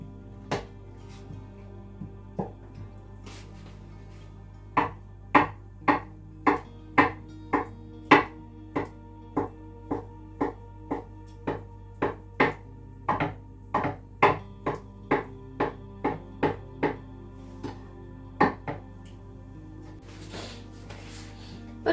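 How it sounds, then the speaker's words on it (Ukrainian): A knife slices five boiled chicken eggs into strips on a board for a chicken gizzard salad, giving about twenty sharp, steady chopping taps in an even rhythm, close and distinct. "мені треба порізати так само смужечками 5 е, курячих яєць"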